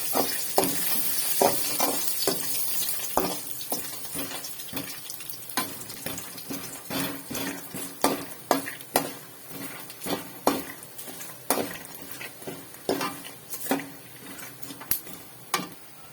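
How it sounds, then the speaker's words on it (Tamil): Peanuts roasting in a pan with fried garlic, a constant sizzle broken by frequent sharp clicks and scrapes of a spoon against the pan, close and busy, with no voices. "இப்போ இந்த வேர்க்கடலையை சேர்த்து நல்லா கொஞ்சம் வறுத்துக்கலாம்"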